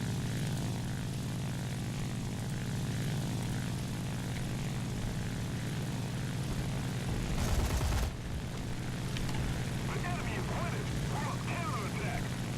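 Soviet La-9 piston propeller fighter in War Thunder, its engine droning steadily and loudly throughout, with a brief burst of noise near the middle and a player talking over it.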